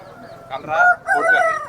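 Roosters crow at a busy open-air rooster market in Gokavaram, with two long, loud calls in quick succession rising over faint background chatter.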